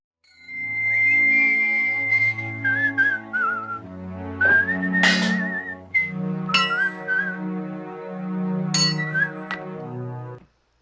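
A clear, melodic whistled tune carries through a film scene, with low instrumental music underneath and a few faint clinks, lasting about ten seconds.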